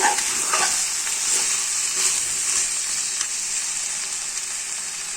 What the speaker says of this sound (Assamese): ধুনীয়াকৈ মাংসটো একদম ধুনীয়াকৈ ভাজ খাই গৈছে